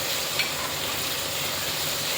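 Spices such as turmeric, garam masala and Kashmiri chilli stirred in a hot pan for anda ghotala, a steady soft sizzle and frying hiss with faint stirring, no voices.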